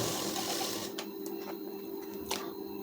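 A sewing machine stitches a folded blouse border with a steady whirring motor run for about a second, then stops, leaving a few faint clicks of the mechanism.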